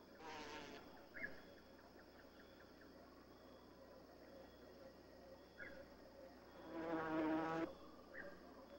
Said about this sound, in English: The potter wasp spreads mud with its jaws, assisted by a buzzing vibration of the whole body